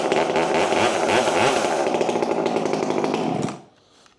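Top handle chainsaw revved loud and close to roll the chain, a steady high engine buzz sustained for over three seconds before cutting off sharply.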